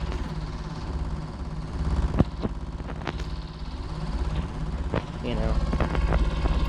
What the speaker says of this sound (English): here's to start the train, which all it does is just make a bunch of engines make sounds all over it